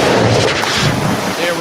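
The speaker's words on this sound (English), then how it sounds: "Fire those cannons." Booming cannon fire celebrates a Buccaneers victory, a loud rumbling blast filling the short moment with deep, sustained low thunder and no talk over it.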